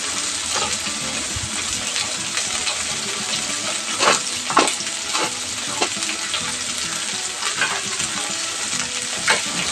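Cinnamon and cloves crackling in hot oil for a Tamil channa gravy, a steady dense sizzle with brief stirring scrapes and a few louder pops.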